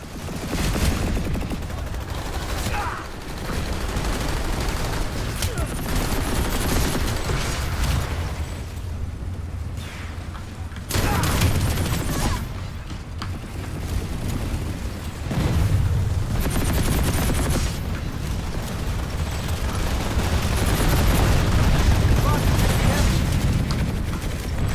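Sustained bursts of H-V45 assault rifle fire in Planetside 2, rapid automatic shots mixed with explosions and game effects, loud and nearly continuous over a combat scene, with brief lulls and no clear speech.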